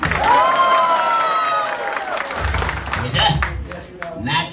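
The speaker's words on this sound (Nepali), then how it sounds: "ताली बजाइदिनु होला" An audience at a live comedy stage program in Qatar claps and cheers in a broad wash of applause, with voices and tonal sounds mixed in. The clapping swells again in bursts toward the end.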